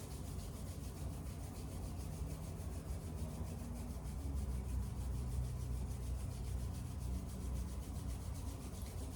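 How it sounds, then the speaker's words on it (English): Palms rubbing briskly together in a quiet seated setting, a steady continuous friction hiss lasting throughout with no pauses and no voices. "we're going to go ahead and just rub our hands together"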